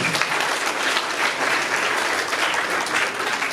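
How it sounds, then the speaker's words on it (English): A crowd at a World Tourism Day university quiz at the Uganda Museum breaks into sustained, even applause, a thick wash of many hands clapping at once with no voices on top. "Can we give them a round of applause?"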